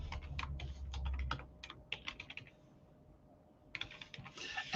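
Typing on a computer keyboard at a desk, a quick run of clicking keystrokes, a pause, then another burst, close and clear with no talk.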